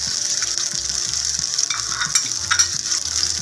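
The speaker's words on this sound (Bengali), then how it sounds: "এটাকে আমি ভালো করে কষিয়ে নেব যেন আদা, রসুন এবং পেঁয়াজের কাঁচা গন্ধটা চলে যায়" Garlic, ginger and onion paste sautéing in a pan for a village-style hilsa fish and fig dish, a loud steady sizzle with repeated scraping stirs of a spatula against the pan.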